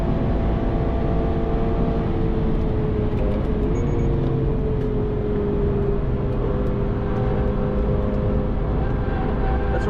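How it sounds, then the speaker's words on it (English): Car at speed on a race track, four-wheel sliding through a corner: a steady, loud engine drone with sustained tonal whine and a faint rising tire squeal that stays constant throughout. "That's four-wheel sliding there."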